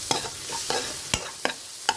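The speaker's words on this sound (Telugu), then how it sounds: "నూనె వేసుకుని నూనె మరిగించుకొని అంతలో స్లో మీడియంలో పెట్టుకుని వేయించుకోవాలి." Bread frying in hot oil in a small pan over slow-medium heat, a steady soft sizzle broken by several sharp scraping clicks of a utensil against the pan, close and alone.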